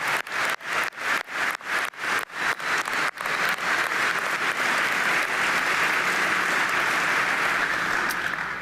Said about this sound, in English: One more round of applause for Class of 75.